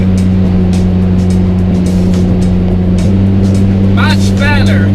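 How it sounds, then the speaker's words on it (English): Loud engine roar from an Alfa Romeo 4C Spider while driving, a steady droning hum with a shift in pitch around the middle. Wind rushes underneath, and a brief chirpy sound comes near the end. "this car is so loud that you can't even hear the extra wind noise"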